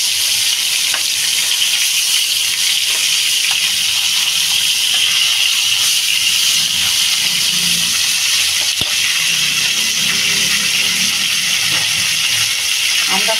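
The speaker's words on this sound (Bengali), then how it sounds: "মাছটা আমি বেশ লাল লাল করে ভেজে নেব।" Fish pieces frying in hot oil, a loud continuous close sizzle and crackle throughout, with faint stirring sounds and no talk.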